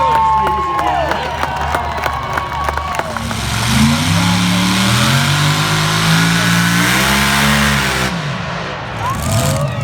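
A John Deere tractor in a truck and tractor pull, its engine climbing and falling in pitch as it revs hard under load, loud over crowd noise and cheering, with sharp crackles early on.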